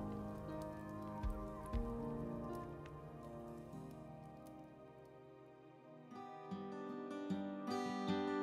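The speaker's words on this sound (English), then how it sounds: "sitting by the window, watching the raindrops" Steady patter of rain falling on a surface, with soft music carrying through the background.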